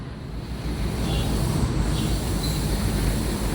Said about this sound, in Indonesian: Kereta kita yang mau ke bandara udah sampai nih